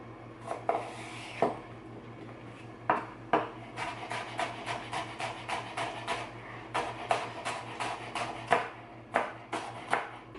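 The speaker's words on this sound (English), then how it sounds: "I'm just gonna slice it just like you would if you were gonna dice celery" A knife slices rhubarb stalks against a cutting board, crisp sharp cuts in an irregular quick rhythm, close up and fairly quiet.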